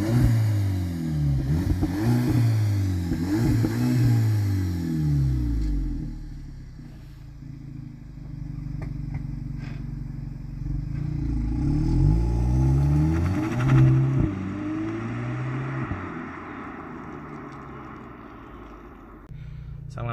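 A 2019 VW Polo GTI (AW) accelerating hard in sport mode with manual shifting, its loud engine note rising in pitch through repeated gear sweeps, with a quieter lull in the middle before another climb, close and steady throughout.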